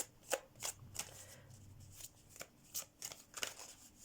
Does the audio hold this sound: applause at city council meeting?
no